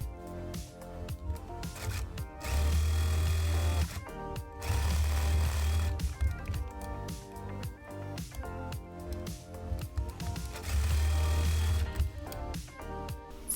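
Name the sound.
sewing machine sewing dress sides and shoulders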